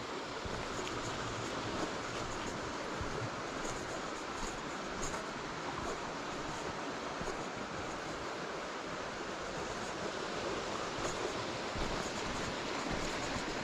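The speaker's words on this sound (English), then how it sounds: "that shows you the power of the water where it's rushing past the leg of the viaduct" Steady, loud rushing of the River Wansbeck past a viaduct pillar, a continuous broadband roar with no pauses and no voices.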